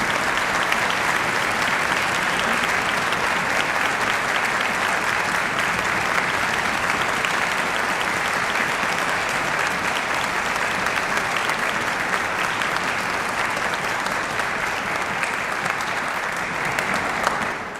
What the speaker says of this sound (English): Let's give one more round of applause, please, both to Becca and Laura for fantastic performances.